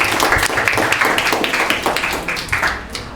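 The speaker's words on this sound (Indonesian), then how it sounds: "beri tepuk tangan dulu untuk semua yang menjawab" A crowd claps steadily for a few seconds, a brisk patter of many hands that fades slightly at the end.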